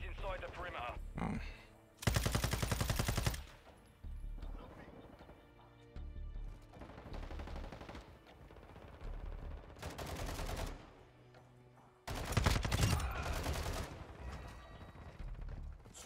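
Sakin MG38 light machine gun in Modern Warfare II firing in several loud sustained bursts separated by quieter gameplay sounds, with the gun running dry quickly.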